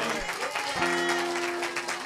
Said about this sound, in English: Clap for the Lord Jesus.